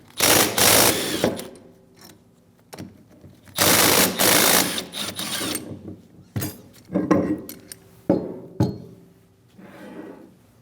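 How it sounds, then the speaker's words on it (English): A ratchet driving a 14mm socket loosens the two brake caliper bolts on a 2016-2025 Chevrolet Malibu. Loud bursts of rapid clicking alternate with pauses, and sharp metallic knocks come in between. No one speaks. "Using a 14mm socket, remove the 2 caliper bolts."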